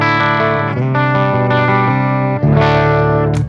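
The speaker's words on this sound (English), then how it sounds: "I'm playing on a Plexi type amp" An electric guitar plays through a Plexi-type amp with a Zoom G3Xn effects processor in front, sounding as a sequence of sustained, overdriven chords ringing loud and close, with no talk.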